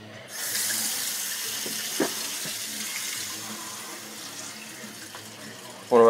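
Tap water runs steadily into a cooking pot for several seconds, a continuous rushing splash that fills the pot for a car thermostat test; it stops near the end, followed by a brief louder sound.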